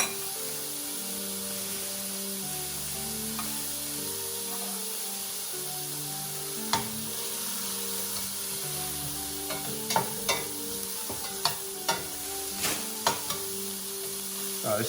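Garlic, onions and chorizo sauté in a pan with a steady close sizzle throughout, joined later by several sharp clicks and scrapes of a utensil stirring against the pan.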